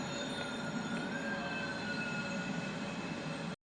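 A passenger train rolls along steadily in the film Before Sunrise, with a continuous close rumble of carriages and wheels and a thin metallic squeal riding on top, holding level throughout before cutting off abruptly.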